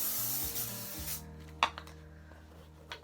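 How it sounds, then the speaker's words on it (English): A hairbrush sweeps hair forward in a few loud, breathy strokes over the first second, followed by quieter rustles and a couple of brief taps. "Just going to tip my head over and then brush my fringe in that all forward."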